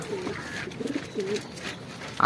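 A pigeon from a BRPFC club coos softly a few times on a rooftop, low murmuring calls in short bursts against faint background noise.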